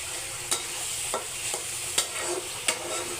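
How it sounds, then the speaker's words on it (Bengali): Egg curry being sautéed in a pan crackles under a steady sizzle, with four or five sharp spatula scrapes spaced irregularly and no one speaking. "আমি কি সুন্দর করে এটা কষিয়ে নিচ্ছি।"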